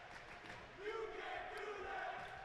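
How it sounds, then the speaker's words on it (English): Students at a college ice hockey game between the Flyers and the Kentucky Wildcats shout together from the stands, a faint, distant, sustained crowd roar with voices rising in unison. "the crowd shouts, "You can't do that.""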